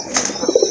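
A pair of pigeons, among them a large German shield bird, giving brief soft coos close by at a pigeon sale, a quick burst of low throaty calls over a faint background hiss.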